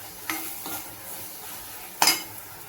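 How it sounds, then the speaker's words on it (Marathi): Green coconut paste sautéing in a pan, a soft low sizzle with two brief scrapes and clinks of a spoon against the pan, close and quiet with no talk. "खोबऱ्याचं वाटण पण बघा छान असं परतून घ्यायचं."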